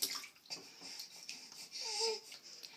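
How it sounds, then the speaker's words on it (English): A small child splashes in a filled bathtub, with close, irregular slaps and sloshes of water and a faint babbling voice between splashes. "Is you having fun in the tub? Splash them legs."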